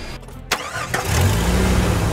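A cartoon jet ski from Fireman Sam gives a couple of sharp clicks before its engine catches and settles into a steady, rumbling idle, heard up close and alone.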